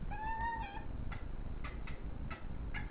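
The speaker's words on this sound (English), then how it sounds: "And the cat is like distraught that she can't get into it." A distraught house cat gives one drawn-out, wavering meow up close, followed by light scattered clicks and taps in a quiet room.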